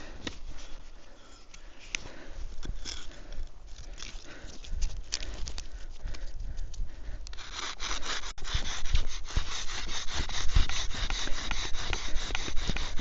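Bow drill with a root bowstring spins a wooden spindle against a wooden board, a rough rhythmic back-and-forth rubbing and grinding that grows louder and harsher as it goes, close and alone.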